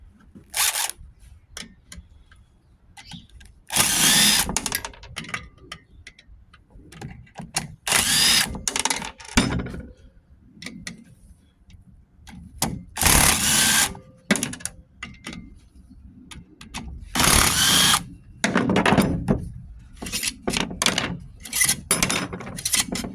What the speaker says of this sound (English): let's get our drill and remove the ends